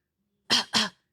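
A voice imitates the staccato cough of walking pneumonia: two short, sharp, close coughs in quick succession, alone with no other talk.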